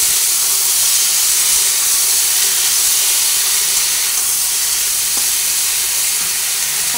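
Malabar spinach stalks, parboiled and mixed with fish head, fry in a pan with a steady, loud hiss and sizzle that runs unbroken throughout, a few faint clicks near the end.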